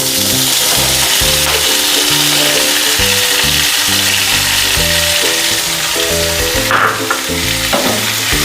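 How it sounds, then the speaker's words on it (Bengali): Chopped onions frying in a pan for a tengra fish curry, a loud steady sizzle with stirring clatter running throughout, no voices. "তার মধ্যে কিছুটা পেঁয়াজ করি আমি এখানে ভাজা করছি"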